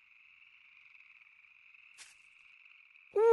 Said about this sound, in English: I'm a red-eyed tree frog.